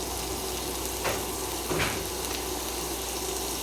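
Chopped onion frying in a hot pan in a home kitchen, a steady close sizzle with a couple of brief louder crackles partway through.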